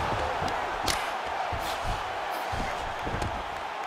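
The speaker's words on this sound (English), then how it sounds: "We'll see if the crowd can be mature about this, DC." Crowd noise from a lightweight UFC bout in a PS5 video game: a continuous arena roar with scattered thumps and swells of cheering, no commentary audible.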